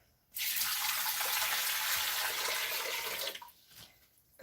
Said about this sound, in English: I'm going to add 8 cups of water.